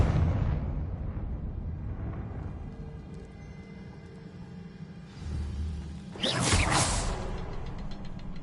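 Confringo explosive spell cast in the video game Hogwarts Legacy: a rumbling roar builds into a loud, bright blast burst with a crackling, whooshing tail, following a low, dull rumble.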